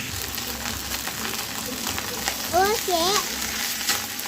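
Cabbage rice sautéing in a pan gives a steady, close sizzle and hiss, with stirring noises and a few short chirping squeaks. A voice briefly speaks over it.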